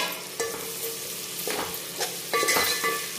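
Large tomato pieces frying in a pan for rasam, a close steady sizzle with several sharp scraping knocks of a spoon stirring.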